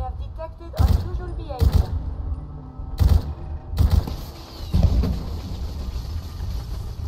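Companion Stella fires an odd weapon in Fallout 4, about five heavy booming shots at irregular intervals, each with a long echoing tail, with someone talking lightly underneath.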